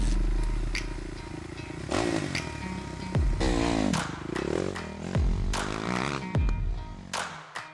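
A motorcycle engine starts and revs repeatedly, rising and falling in pitch, close by with scraping and clattering mixed in.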